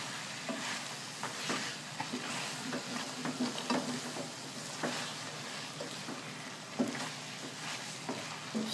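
Spicy chicken liver guisado with oyster sauce sizzling in a pan while a utensil stirs it, giving steady frying crackle punctuated by scattered scrapes and clicks.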